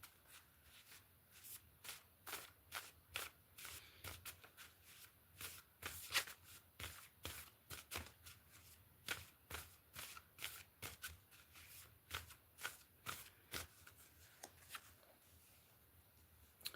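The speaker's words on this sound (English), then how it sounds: "I'm gonna start shuffling on camera." Tarot cards shuffled by hand in quick riffling bursts, a steady run of crisp papery flutters repeating close up for the whole stretch, with no talking.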